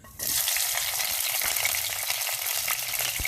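Onion hits two tablespoons of hot oil in a pan for Filipino sautéed bitter melon, bursting into a sudden loud, close sizzle that holds steady and crackling with faint stirring.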